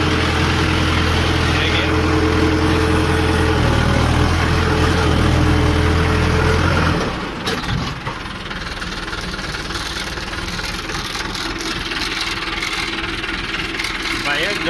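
A Mahindra 595 Turbo tractor engine runs in gear with a loud, close, knocking diesel throb that drops to a lighter rumble about halfway through, while someone talks over it.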